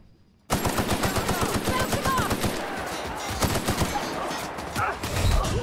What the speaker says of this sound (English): I got destroyed by that heavy machine gun guy.